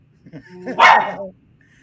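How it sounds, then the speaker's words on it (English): A small dog lets out one deep, throaty bark up close, preceded by a few soft low grumbles. "that's a little dog. It sounds like a big dog."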